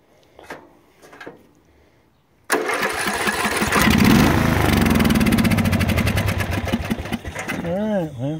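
A lawn mower engine with a carburetor needing cleaning fires up after a couple of faint knocks and runs loud and steady for several seconds, its revs dipping and wavering near the end.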